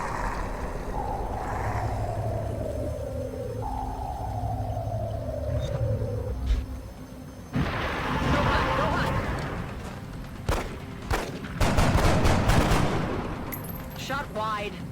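Gunfire in the video game XCOM: Enemy Unknown, with loud bursts of shots and crackling impacts in the second half after a stretch of rumbling ambience and descending tones, together with game voice lines.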